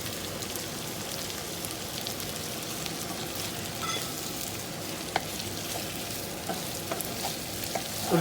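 Chilli paneer sizzles hard in a pan while it is stirred, making a dense, continuous frying hiss with scattered light spatula taps and clicks toward the end, close and with no speech.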